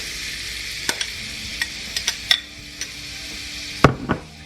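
Food frying in a skillet, laid in one layer, gives a continuous close sizzle with a few sharp clicks and taps of a utensil against the pan, ending in a louder clatter.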